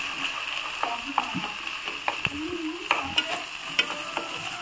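Ginger garlic paste frying in oil in a pan, a steady sizzle with scattered scraping and clicking stir strokes, close and moderately loud with no talking.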